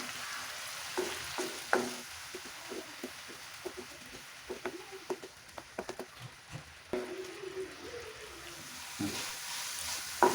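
Grated coconut and jaggery fry with a steady sizzle over medium flame, with frequent scraping and stirring clicks from a spoon in a pan, close by and with no voices.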